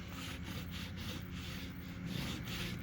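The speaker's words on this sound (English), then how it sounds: "So now I'm wiping it off with isopropyl alcohol." A cloth soaked in isopropyl alcohol wipes a steering wheel badge on a Chrysler Crossfire with quick back-and-forth rubbing strokes, close and soft against faint background noise, with no voices.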